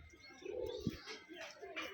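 Pigeons, a male and female of a fancy breed, coo softly at close range, a low murmuring coo with a faint thump amid quiet background noise.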